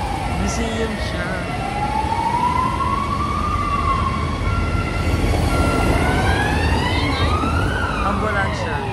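Ambulance siren wailing along a rainy street in Brussels, a steady rising and falling tone that stays loud throughout over rain and traffic hiss, with people talking faintly underneath.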